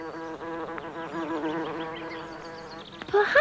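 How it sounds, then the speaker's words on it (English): A close, droning bee buzz with wavering pitch, continuous and fairly loud, with a brief rustle at the end. "Or would I buzz around the flowers with wings of busy bees?"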